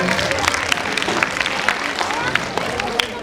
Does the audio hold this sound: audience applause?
yes